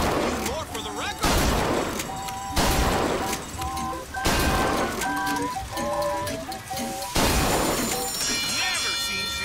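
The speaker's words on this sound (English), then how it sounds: "Never seen shooting like that." Gunfire rings out at a shooting gallery in Bioshock Infinite, with sharp, repeated shots arriving in clustered bursts and bright target pings between them, while a voice talks over the shooting.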